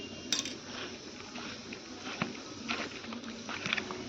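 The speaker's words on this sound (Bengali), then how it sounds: "এটাকে আমি ভালো করে মিক্স করে নেব" Wet, squishy patter of chicken being mixed by hand with a ginger, garlic and green chilli paste and cornflour in a bowl, with light clinks against the dish, close and continuous for a few seconds.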